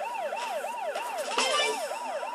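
Wailing police car siren from the video game Turbo Dismount, a steady repeating rise-and-fall sweep heard close and loud, with a brief crash-like burst partway through and no talk over it.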